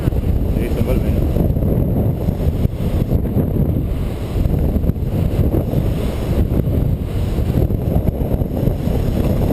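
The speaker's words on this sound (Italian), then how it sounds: "sì, sta bel vento" Strong wind buffets an outdoor landing area, a loud continuous roar of gusts hitting the microphone with steady low rumble throughout and no pauses.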